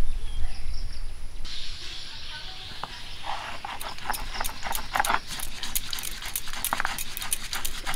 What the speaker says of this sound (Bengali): একইভাবে পোস্ত আর সর্ষেও খুব ভালো করে বেটে নেব।